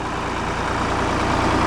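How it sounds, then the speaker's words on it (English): An old 50 horsepower 3910 tractor with a 6-foot Bush Hog cutter on the back runs nearby, a steady low diesel rumble holding even throughout, with no talking. "I really like the sound of this old tractor"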